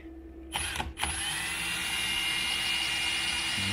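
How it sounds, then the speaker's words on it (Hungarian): An electric drill spins up to drive an iSTA Breeze I-1500 wind turbine, starting with a couple of brief stuttering bursts before settling into a steady, loud, continuous whine with a constant high tone. "A fúróval fogom hajtani természetesen."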